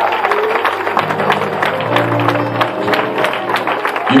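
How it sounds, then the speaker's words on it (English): Church congregation clapping hands together during worship, a dense, steady wash of applause with musical tones underneath and voices mixed in throughout. "Clap your hands, give God a hand up"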